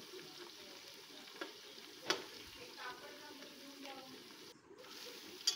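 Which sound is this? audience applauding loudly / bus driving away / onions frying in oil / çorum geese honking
onions frying in oil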